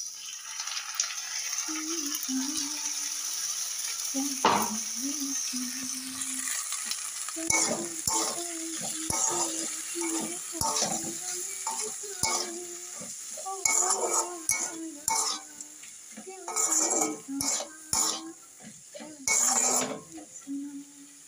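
Beans and eggplant frying in a pan as poppy seed paste goes in, a steady close sizzle broken by repeated scraping and stirring clatter of a spatula against the pan, with no talking.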